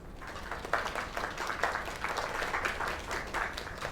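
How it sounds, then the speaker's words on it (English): A crowd claps in the video game Lake, a steady dense patter of applause at moderate distance that holds for several seconds with no voices over it. "Another round of applause"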